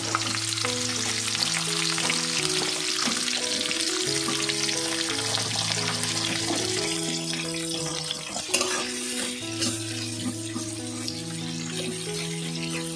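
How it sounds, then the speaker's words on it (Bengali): Onions frying in spiced, tempered oil for Kolkata Golbari-style mutton kosha: a continuous bright sizzle with occasional stirring, heard beneath steady background music. "পেঁয়াজটা একটু লাল লাল করে ভাজা হবে"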